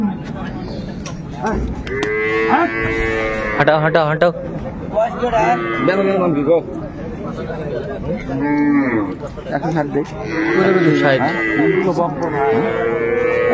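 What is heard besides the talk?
cows and calves mooing at a cattle market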